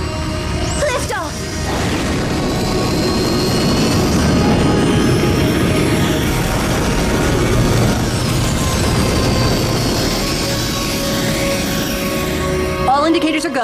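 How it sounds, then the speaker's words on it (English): Spacecraft engines roar at liftoff in the Code Lyoko cartoon, a loud, dense, sustained rumble that builds and holds for over ten seconds, with sharp whooshing effects at the start and end. "We have ignition powering vertical."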